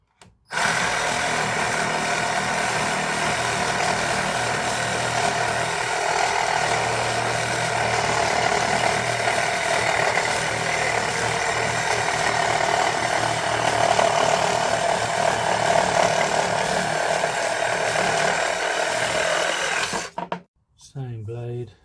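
A reciprocating saw with a construction timber blade cuts through a piece of decking, giving a loud, continuous buzzing rasp for about twenty seconds before stopping abruptly.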